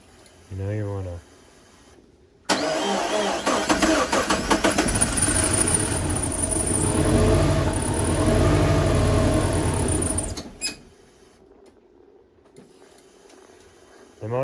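A twin turbo Subaru engine cranks, catches and runs loud and close for several seconds with a rough rumbling idle, then cuts off abruptly; a voice speaks briefly before it starts.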